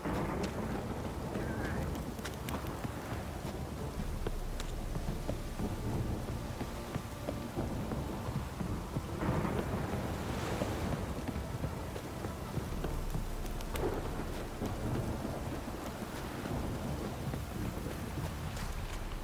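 Steady rain pours continuously in The Witcher 3 video game while low rumbles of thunder roll in now and then, fairly faint and constant.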